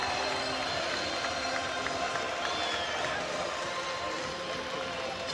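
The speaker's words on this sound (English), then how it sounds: "out come the Chiefs, and this Sandy Park crowd, this home voice will get up and get loud" The Sandy Park home crowd at an Exeter Chiefs rugby match against Gloucester roars steadily as the Chiefs come out, a dense, sustained wall of cheering and clapping from a large stadium audience, with a commentator talking over it.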